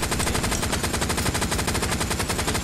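Sustained machine gun fire in the World War II shooter Hell Let Loose, a rapid, evenly spaced stream of loud close shots that continues without a break.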